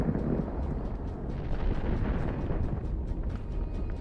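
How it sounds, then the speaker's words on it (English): Continuous crackling and popping bursts of a Russian tank's heat trap flares igniting and exploding in a rapid irregular series over a low roaring rumble, somewhat distant. "The heat traps ignite and explode, creating a spectacular view."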